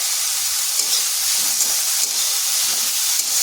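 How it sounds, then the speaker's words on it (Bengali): Grated potato fries in hot oil, giving a steady, close, bright sizzle and hiss that holds evenly throughout with no talking. "এরপর আলুটাকেও ভেজে নিচ্ছি।"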